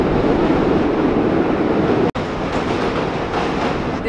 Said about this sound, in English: we are under Manhattan Bridge and there's a train coming!